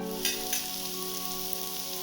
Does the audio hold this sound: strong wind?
no